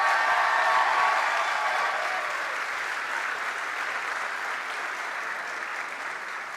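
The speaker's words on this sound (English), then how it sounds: "let's give them another round of applause on their walk up" Steady, dense audience applause at a university athletics awards show as the CAA tournament champion women's basketball team walks up, continuous clapping that fades slightly toward the end.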